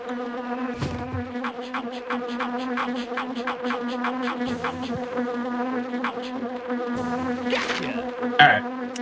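A swarm of bees drones steadily in a video game, a continuous buzzing hum with brief clicks and soft game effects scattered through it.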